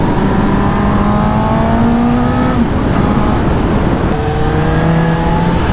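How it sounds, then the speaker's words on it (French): Four-cylinder motorcycle with a hot exhaust, engine droning steadily and rising and falling in pitch as it rides, with faint crackles from the pipe on the overrun. "Quand l'échappement est bien chaud, là, ça fait des petits retours."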